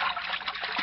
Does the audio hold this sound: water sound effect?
yes